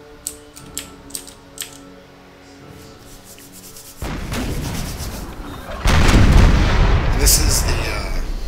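Artillery booms in the Empire Total War battle game, with a few sharp early reports, then heavy, dense rumbling barrages that swell loud and sustained toward the end.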